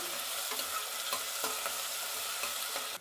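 Onions fry in a pan for a rice pilaf, a close, continuous sizzle with soft scraping as they are stirred, fairly quiet and steady throughout, with no voices.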